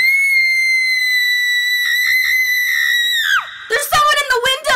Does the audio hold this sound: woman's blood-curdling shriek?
yes